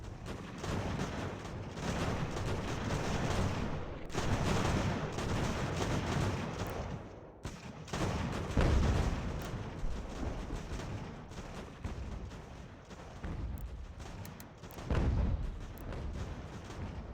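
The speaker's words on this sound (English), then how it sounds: "before enemy opens fire on our guys" Musket volleys and artillery fire from the strategy game Ultimate General: American Revolution rumble in a dense, continuous barrage of overlapping booms and crackling shots, loud throughout with brief lulls and sharper blasts rising out of the din.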